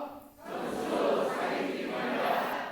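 A church congregation shouts a slogan back in unison, one loud sustained crowd response in a large hall that swells and holds for a couple of seconds.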